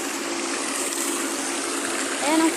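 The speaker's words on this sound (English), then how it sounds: "Ayan ang fountains." Outdoor fountains give off a steady, broad wash of splashing water, loud and continuous, with a brief bird-like chirp near the end.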